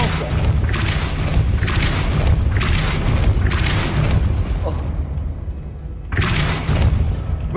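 Repeated whooshing bursts of the Depulso spell cast in the video game Hogwarts Legacy, four or five loud pulses in quick succession, then a short gap and another blast.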